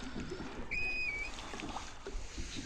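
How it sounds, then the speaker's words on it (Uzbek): A two-oared rowboat moves along a river through riverside thickets, with soft, steady water and movement noise and a brief thin whistling tone near the start. No one speaks. "Ikkita eshkakli qayiqda."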